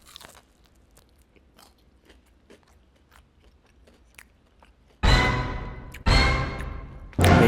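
Quiet low rustling, then three loud crunchy bites into a fried chicken wing close up, each a sharp crackling burst that fades, the last cut short at the end.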